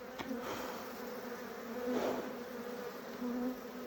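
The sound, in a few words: honey bees buzzing during hive inspection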